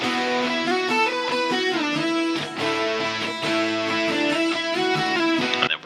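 Thick, sustained distorted electric guitars play chords together in a dense, loud wall of sound with no voices.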